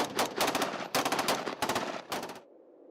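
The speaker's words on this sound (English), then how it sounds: "the bone-chilling echoes of gunfire tearing through the heart" Rapid bursts of gunfire crack out in three or four loud volleys at night, each burst a fast string of shots, before the last one cuts off and leaves a low lingering echo.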